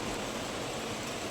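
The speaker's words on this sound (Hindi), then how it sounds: "बारिश इतनी तेज़, वो भी गजब की बारिश आ रही है भैया, अंदर तक आ रही है" Heavy rain pours down steadily outside a home, reaching indoors, a dense, loud, unbroken hiss with no voices over it.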